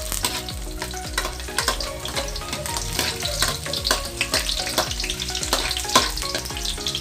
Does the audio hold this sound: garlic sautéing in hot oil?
yes